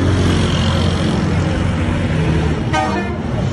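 A loud, heavy roar of a warplane passing low overhead in northern Syria, a steady broadband rumble that fills the whole clip.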